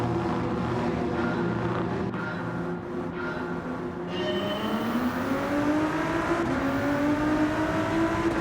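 A Ford GT race car launching at the start of a race in Gran Turismo 7, its engine droning and rising in pitch through the gears with a clear upshift, loud and continuous amid other cars.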